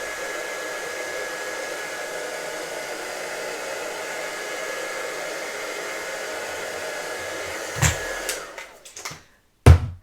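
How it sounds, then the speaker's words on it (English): A heat gun blows steadily and loudly for about eight seconds over a glitter-covered Christmas card, warming the glue. The hiss then cuts off in a few abrupt bursts near the end. "I'm just going to give it a quick blast with the heat gun"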